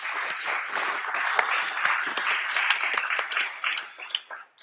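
Clapping from an audience at an event in France, a dense patter of many hands spread across the room that holds fairly steady, then thins and breaks apart near the end.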